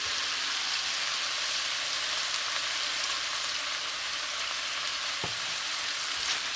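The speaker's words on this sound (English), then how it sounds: "Saute well. Add a little bit of salt." Chickpea curry masala sautéing in a pan, a steady broadband sizzle throughout, close and even, with a single faint knock near the end.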